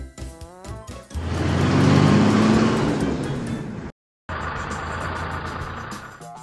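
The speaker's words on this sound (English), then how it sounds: "Aircraft tugs." An aircraft tug drives past, its engine rising into a broad, steady roar for a few seconds, then cutting out briefly before resuming at a lower, even level.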